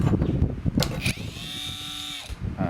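A PRO EKCO 12V brushless cordless 3-inch mini angle grinder cutting: a short high whine rising and holding for about a second under quiet background talk, with clicks and handling noise around it.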